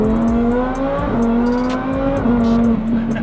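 A supercharged Lamborghini Sterrato drives past at speed, its engine note climbing and shifting with a strong, sustained tone, loud and up close with no voices.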